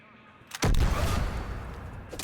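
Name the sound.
gun firing three-round bursts in video game Mass Effect 3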